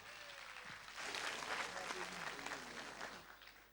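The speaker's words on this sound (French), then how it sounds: "Veuillez l'applaudir." Studio audience applauding a performer named Baz MC at the Faso Academy 2017 launch broadcast, the clapping swelling after a second and holding steady with some crowd noise and a voice over it.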